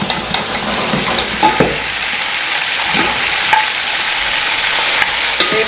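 Beef trotters (paya) fry in a pot with a steady, loud broadband sizzle, punctuated by a few sharp clinks and scrapes of stirring, with no voices.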